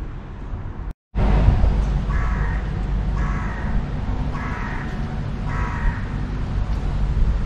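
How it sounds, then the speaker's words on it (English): A crow caws four times in an even, spaced rhythm near Holy Trinity Church, fairly close and clear over a steady outdoor background rumble, after a brief cut to silence at the start. "I did think the crow squawking in this clip was very synonymous with churches and churchyards."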